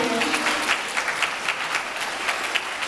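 Wedding guests applaud the bride and groom with a dense, steady burst of clapping from a crowd, loud and fairly close, continuing evenly for a few seconds.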